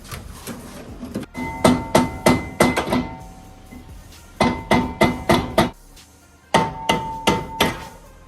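Repeated loud metallic hammer strikes on a car brake rotor of a Ford EcoBoost, in quick bursts of four to six blows, ringing sharply, separated by short pauses.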